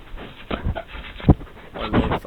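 Wolves panting and whimpering close by in the woods, quick breathy pants broken by soft whines and a louder sniff or huff near the middle, with no talking.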